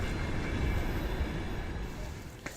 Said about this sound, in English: We've been on the train for about 12 hours.